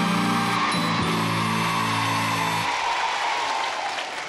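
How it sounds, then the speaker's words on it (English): Studio audience applause on a 1982 children's television show, loud clapping over a sustained musical fanfare that cuts off partway through, leaving the applause to carry on alone. "How about a nice round of applause for all the kids who are now going to play Take a Letter?"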